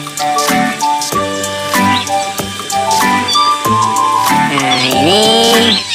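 A Maine Coon cat at a bird park gives a series of loud, close, drawn-out meows, one after another, with a person speaking briefly alongside.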